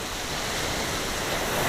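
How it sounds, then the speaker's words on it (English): Ocean surf rolling onto the shore at golden hour, a steady broadband wash of breaking waves that swells louder toward the end, with no talk over it. "Big waves, come on."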